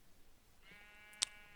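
A single short sheep bleat in a modded Minecraft game, fairly faint and heard alone against a quiet background, ending with a brief sharp click.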